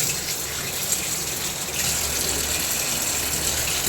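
Apples, pomegranate, grapes and pineapple being washed under running tap water: a steady, close gush of flowing water that continues unbroken throughout, with no voices.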